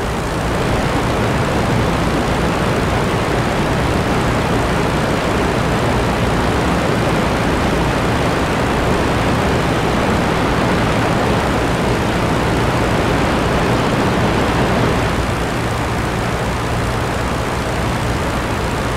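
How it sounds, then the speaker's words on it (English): Inside a WWI aircraft cockpit in IL-2 Battle of Stalingrad, a loud, steady rush of wind roars without a break, with the engine drone blended underneath it. "the wind noise is the loudest"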